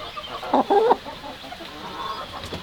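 A backyard chicken gives a few short, close clucks in a quick burst, followed by quieter outdoor background noise, with no talk.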